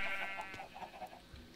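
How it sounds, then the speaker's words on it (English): A sheep in the Minecraft video game bleats in a short, quavering in-game call, fairly quiet and alone with no talk over it. "I found a sheep."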